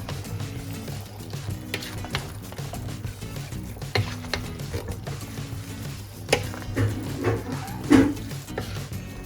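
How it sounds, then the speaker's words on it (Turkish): Spoon stirring tomatoes, pepper and oil in a pot for homemade menemen preserve, gentle repeated scraping and clinks over a soft sizzle, with a louder knock near the end. "Şimdi bir güzel karıştırıyorum."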